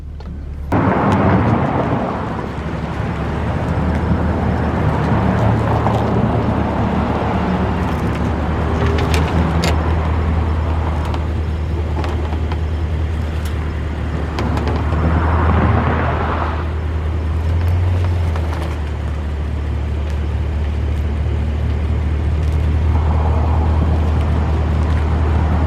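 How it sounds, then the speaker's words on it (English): 2019 Lexus RC F fitted with a Pandem widebody kit, engine rumbling low and steady in the cabin while driving, with a few brief scraping knocks of the kit against the ground over the drone. "I'm gonna be scraping this kit every single day"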